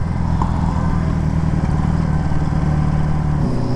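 A 1975 Honda Goldwing motorcycle engine idles while warming up, a steady loud low throbbing rumble with a slightly uneven, lumpy beat, close up and continuous throughout.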